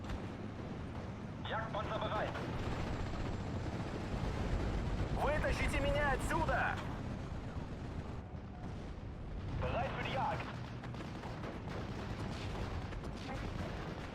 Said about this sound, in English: This artillery is very oppressive.